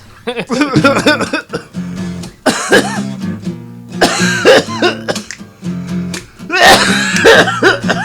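Several sharp coughs break out among lively overlapping voices and laughter, close and loud, with people talking throughout.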